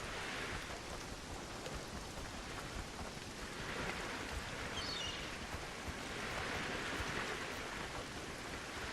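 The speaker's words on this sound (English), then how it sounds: "It rains constantly." Steady, heavy rain pours without pause in Conan Exiles, a dense constant hiss of falling water with a faint rumble beneath, continuous and loud, no voices.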